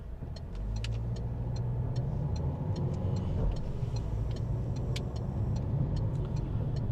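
A car drives steadily along a road near a roundabout and bridge, with a continuous close engine and tyre hum plus faint intermittent ticking throughout.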